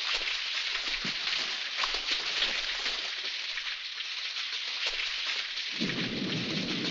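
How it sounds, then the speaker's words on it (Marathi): Heavy rain pours down steadily with a low rumble of thunder underneath, a dense constant hiss filling the scene with no voices. "हो खूप पाऊस आहे, साथ भिजलोय मी."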